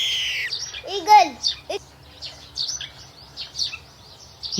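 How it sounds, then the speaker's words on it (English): An eagle lets out a piercing call that rises and falls in pitch, followed by scattered shorter chirps, fairly close and clear with little else around. "Eagle! Eagle!"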